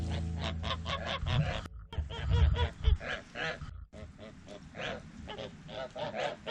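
A mother goose squabbles with her goslings, a loud, dense stream of overlapping honks and harsh calls close by, with brief gaps of quiet between bursts.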